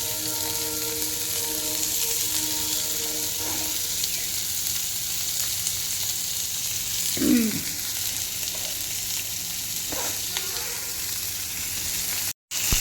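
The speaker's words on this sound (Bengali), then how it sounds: "এখানে সুন্দর করে পেঁয়াজগুলো হালকা বাদামি বাদামি ফ্রাই হয়ে যাবে।" Chopped onions frying in a pan, a steady moderate sizzle close by, with a low tonal hum fading early and a few brief stirring sounds, no talk.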